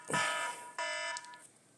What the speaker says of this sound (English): My alarm's going off, sorry.